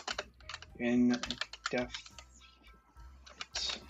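Fast, irregular clatter of keys on a computer keyboard while a computer science student works on a research paper, close and crisp, with someone talking over the typing.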